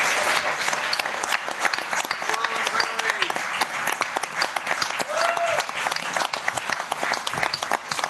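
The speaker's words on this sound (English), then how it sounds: "But let's give him a massive round of applause." Steady, full-bodied applause fills a hall at an annual town meeting awards presentation, continuous for the whole stretch, with a few faint whoops rising through the clapping.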